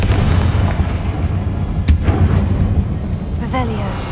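A Confringo fire spell blast in Hogwarts Legacy: a loud, dense burst of booming gunfire-like impacts with a sharp crack partway through and a brief voice near the end.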